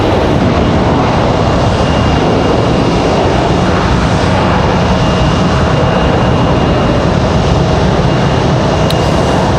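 An airliner, Delta flight 1337 arriving from Orlando at Raleigh-Durham airport, gives a steady, loud broadband engine roar that holds evenly throughout with no talk.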